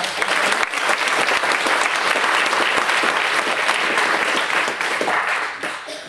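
An audience at a GNOME Foundation annual general meeting breaks into loud, sustained applause, dense clapping that holds steady before tapering slightly at the end.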